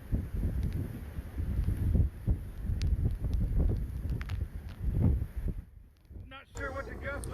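Strong, gusty wind beside trees bent sideways, roaring in uneven surges and buffeting the microphone, loud and close throughout, with a brief lull near the end.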